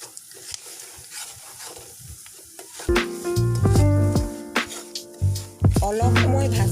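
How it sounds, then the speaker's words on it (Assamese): Semolina being stirred and fried in oil with nuts and spices for suji halwa, soft sizzling and scraping at first, then louder clattering and tonal ringing from the pan and utensils with sharp knocks. "অলপ সময় ভাজি লৈছোঁ।"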